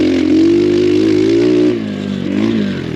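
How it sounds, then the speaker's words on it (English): An X Pro Storm 150 dual sport motorcycle engine, still being broken in, revs hard on a trail, a loud, close buzzing drone that holds high then drops and climbs again. "Probably should take it a little more easy on the engine."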